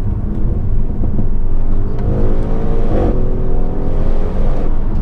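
An Audi RS6 Performance with 605 PS accelerates hard, its engine a loud, steady roar that climbs in pitch through the gears, with a brief surge around the middle and no voices over it.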